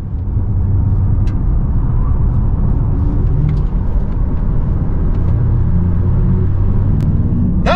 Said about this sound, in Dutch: We zijn op pad met de Audi e-tron RS GT.